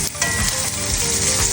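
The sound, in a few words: T-bone steak frying in cast iron skillet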